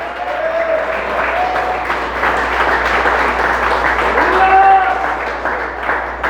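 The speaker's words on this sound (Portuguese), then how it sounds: "todos podem aplaudir a Jesus agora" Church congregation applauding Jesus during a Portuguese-language sermon, a broad wash of clapping with scattered voices and shouts rising and falling across the whole stretch.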